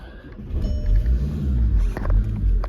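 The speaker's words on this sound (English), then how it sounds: "just start it up for you. Hear it run" A Volkswagen Passat 2.0 TDI BlueMotion Tech Alltrack 4Motion diesel runs close by with a smooth, low, steady rumble that swells gently now and then.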